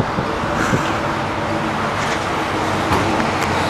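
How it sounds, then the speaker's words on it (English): A 2008 Volvo VNL64T670 truck with a D13 engine and manual transmission runs at a steady idle, a continuous low diesel rumble heard close by with no talk. "take you inside the truck too, fire it up, let you listen to it run."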